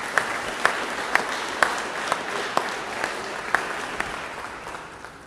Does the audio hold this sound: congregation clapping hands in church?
yes